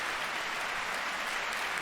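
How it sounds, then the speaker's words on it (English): An audience in the visual novel game Farther than the Blue Sky claps through a presentation, a steady wash of dense applause with no cheering or voices. "The audience clapped for the umpteenth time that day."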